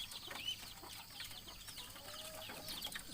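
Young chicks in a small chick pen give faint, high, scattered peeps and soft clucks, distant and quiet against a low background hum.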